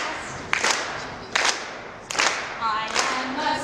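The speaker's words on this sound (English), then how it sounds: "You just have to clap your hands." Groups of people at a Catholic high school open house clap their hands along to a spelling song in a few distinct bursts spaced about a second apart, with singing voices between and under the claps.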